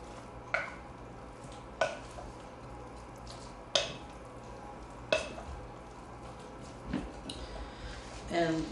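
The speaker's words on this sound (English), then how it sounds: "I've got it cut in strips and it's tenderized, so we'll just kind of mix that in a little bit." Tenderized meat strips stirred in a frying pan, a continuous sizzle broken by several sharp scrapes and knocks of a utensil against the pan, close up, with faint talk at times.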